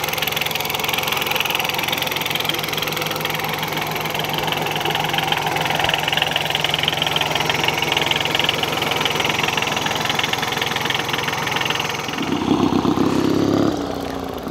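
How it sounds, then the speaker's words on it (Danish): A rebuilt Daihatsu diesel engine burning rapeseed oil, in a diesel motorcycle at a racing event in Mosten, Denmark, runs with a loud, steady, knocking drone close by, with no talk. "En dieselmotor, der kører på rapsolie."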